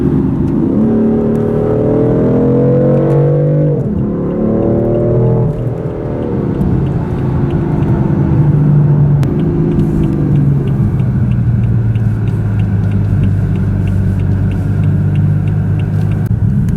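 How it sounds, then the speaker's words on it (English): BMW M4 driving in convoy with Gemballa cars behind and a McLaren ahead: a loud engine note rising and falling through gear changes, with steady road rumble throughout and no talk. "I'm now in the M4 with Jason, and we're driving with all the Gemballa boys behind us, and we've got the Mclaren in front."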